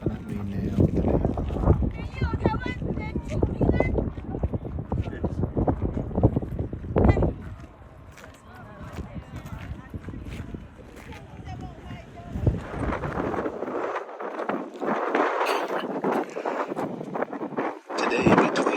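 Gusting wind buffets the microphone at Joshua Tree National Park near Skull Rock, a loud, steady roar that rises and falls throughout, with brief talk early on.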